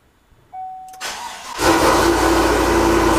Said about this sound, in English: we need to start the truck